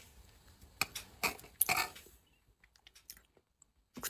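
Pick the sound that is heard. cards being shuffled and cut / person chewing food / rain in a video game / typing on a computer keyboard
person chewing food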